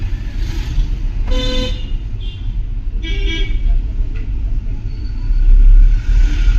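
A car engine revs and accelerates during a driving lesson, a steady low rumble that swells toward the end, with brief horn-like tones and muffled voices in the cabin.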